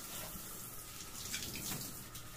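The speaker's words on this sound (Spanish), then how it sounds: "Espérate que ponga el agua templada casi fría." A tap runs warm, almost cold water into a bath, a steady close splashing gush that holds throughout with no talking.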